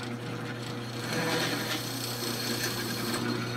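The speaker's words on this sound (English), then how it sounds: "I think the uh, drill press is going too fast" A drill press with an annular cutter grinds steadily through steel pipe at too high a speed, a continuous rough whirring with faint mechanical rattling, moderately loud and close.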